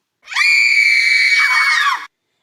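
Two women let out one huge, high, sustained scream together in an audio drama, loud and close, lasting under two seconds and cutting off abruptly.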